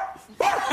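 A person imitates a dog with their voice, giving a loud, realistic bark-like yelp that starts abruptly partway in and holds to the end, preceded by quiet room noise.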